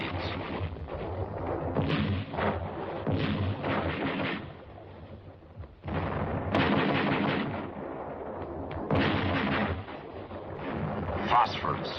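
Repeated explosions from grenades in 1951 Korean War combat, heavy booming bursts in several clusters, with a voice talking among them.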